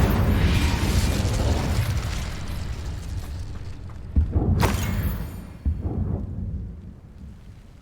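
A Confringo spell explosion in the video game Hogwarts Legacy, heavy rumbling booms and sharp blasts over a dense roaring background, with a couple of distinct bursts partway through before the noise fades away.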